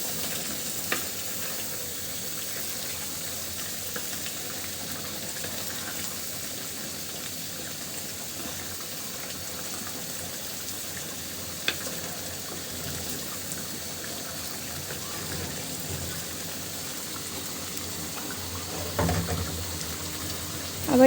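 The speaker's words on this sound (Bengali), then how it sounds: "একটু নাড়া দিয়ে দিই, নিচে যেন লেগে না যায়।" Beef curry frying in a pot on a rainy day while it is stirred, giving a steady low sizzle and crackle throughout with a few brief clinks of the spoon and a louder scrape near the end.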